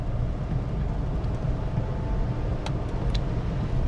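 Renault Kiger car cruising at about 80 km/h, a steady broadband road and engine rumble heard from inside the cabin, with a few faint clicks near the end.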